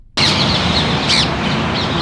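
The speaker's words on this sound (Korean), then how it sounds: "여러분 새소리가 들리시나요?" Outdoor birds in Honolulu, Hawaii give thin, high chirps and short calls over a steady wash of wind or surf noise, moderately distant and fairly faint.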